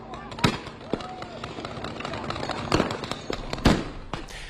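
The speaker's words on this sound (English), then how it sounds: "That was followed by protesters shooting fireworks at officers." Protesters fire fireworks at officers during a street confrontation, giving several sharp pops and bangs with crackling bursts spread across a few seconds over noisy crowd background.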